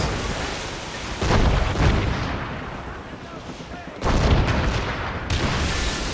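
Heavy naval cannon fire in Assassin's Creed Rogue, ship guns pounding an enemy vessel at sea: two loud booming volleys, the second at about four seconds, each rolling into a long rumbling tail over sea noise.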